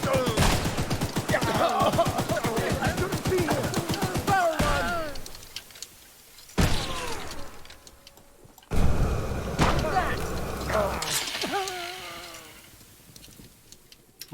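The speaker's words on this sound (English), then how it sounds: "I'm gonna shoot you." Rapid gunfire bursts from the horror train game Choo-Choo Charles, loud and sustained fusillades broken by short pauses, with a voice talking over the shooting.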